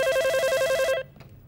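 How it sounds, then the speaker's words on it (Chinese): A household telephone rings with a rapid warbling electronic trill for about a second, then cuts off abruptly into a quiet room. "青儿电话，青儿，电话。"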